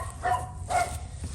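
Pet puppy dogs barking at children playing in the street beside a house, two short muffled barks spaced apart over a low steady background hum.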